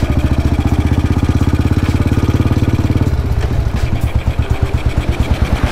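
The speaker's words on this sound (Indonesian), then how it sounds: "Kata si Aseng, ini motornya ganti giginya harus kayak gini nih, dari RPM tinggi" A 1952 BMW R25 single-cylinder motorcycle revs hard while being ridden, its close, loud, rapid engine pulses running steadily before dropping to slower, lower firing after a gear change partway through.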